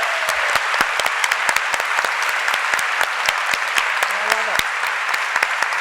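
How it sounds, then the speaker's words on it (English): Audience at a fashion talk event claps loudly and continuously, with sharp individual claps standing out from the dense applause; a voice is briefly heard amid it. "Can we also give a huge round Huge of applause for Derek Ladd"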